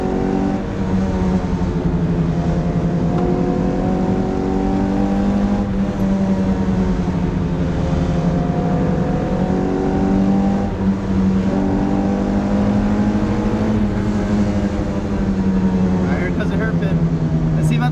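A 1988 Toyota MR2 Mk1 engine revs steadily throughout during rev-matched shifts, its pitch rising and falling as the driver works through gears, loud and close, with occasional talk over it.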